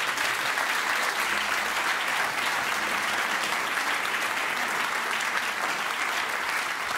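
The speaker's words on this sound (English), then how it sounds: "Could you please give the Bimhuis a round of applause?" An audience at the Bimhuis jazz venue in Amsterdam applauds after a quintet performance, giving steady, dense clapping that holds at an even level for several seconds with no one speaking over it.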